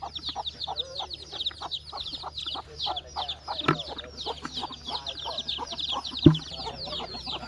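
Chickens clucking and chattering close by in a rural outdoor spot, a busy run of short overlapping clucks with a few sharper knocks, and no talking.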